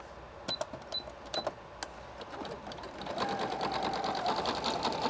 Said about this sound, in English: normally what I do is I also do a zigzag stitch.